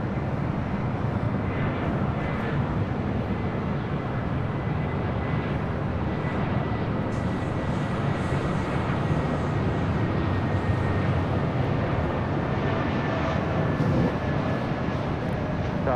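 A Spirit Airlines airliner passes at LAX with a sustained, loud engine roar that rumbles evenly and fills the whole stretch, with no clear voices over it.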